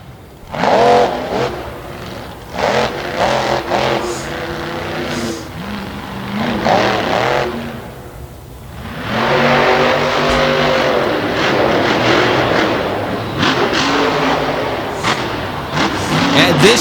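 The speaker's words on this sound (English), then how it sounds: "The motor sounds good, but the transmission is not cooperating." A monster truck's engine at a Renegade Round Up event, loud and close, revving in repeated surges and dips while the transmission struggles, with a crowd and announcer talking over the roar.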